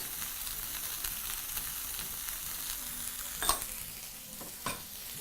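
Vegetables tossed in a hot pan with curry powder and mixed herbs make a low, even sizzle, broken by two brief clatters of utensil against pan.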